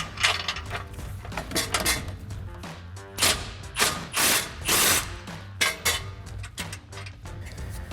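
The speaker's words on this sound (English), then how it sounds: "we'll grab that 16mm socket for the bolt" A 16mm socket wrench ratchets on the bolts of a Jeep Gladiator JT front bumper, giving repeated bursts of clicking and metallic rattling with brief pauses in between, close and fairly loud, with no talking.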